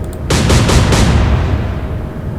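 A naval gun fires in the Atlantic Fleet video game. There is one heavy boom, and its rumbling roar rolls on and slowly fades over a couple of seconds. No one speaks.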